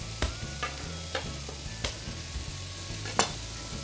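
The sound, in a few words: bacon and onions sautéing in a pan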